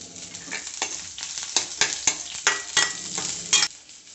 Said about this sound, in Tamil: சின்ன வெங்காயமும் பூண்டு ஆட் பண்ணிவிட்டு அது கூட வதக்கிக்கலாம்